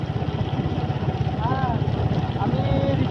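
A motorbike rides on a paved road in the rain near a park, with a continuous pulsing engine drone and wind and rain noise. It is close and steady throughout, with a faint voice briefly underneath.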